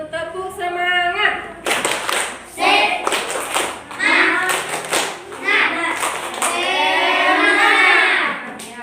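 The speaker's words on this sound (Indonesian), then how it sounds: "Kalau begitu tepuk semangat." Pupils in a classroom perform a rhythmic spirit clap, sharp patterned bursts of hand claps in groups, with a teacher and children talking around them.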